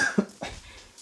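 An elderly man coughs once or twice, a short close rasping cough followed by a throat-clearing sound, heard alone without talk.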